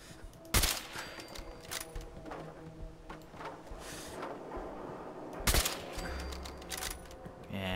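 Two loud, rapid bursts of gunfire crack out during a gunfight in Fallout 4, several seconds apart, over a low, busy game ambience.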